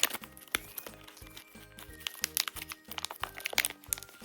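A Sanrio mystery blind bag is torn open up close, its stiff plastic wrapper crinkling and crackling in irregular, sharp bursts with no voice over it.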